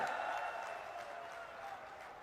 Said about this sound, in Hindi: जोर से ताली बजाइए लुम्बाराम जी के लिए।